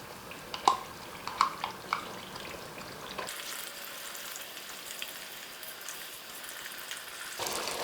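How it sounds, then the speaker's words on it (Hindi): Yogurt being stirred and fried in a pot of Deghi-style mutton spinach curry, a few spoon scrapes and clinks over a steady soft sizzle that brightens and grows louder partway through. "इसमें हम अपनी फिटी हुई दही शामिल करेंगे और इसे अच्छे से चलाएंगे।"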